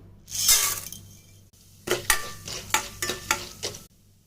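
Chana dal and urad dal tipped into hot oil in a pan, with a rushing sizzle at first, then a run of sharp clinks and stirring scrapes over a steady low hiss.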